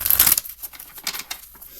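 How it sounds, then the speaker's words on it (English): A tarot deck of love cards being shuffled by hand, giving a short burst of soft riffling and papery flicks followed by a few faint card taps, close and quiet, with no voices. "I'm going to give this a little shuffle,"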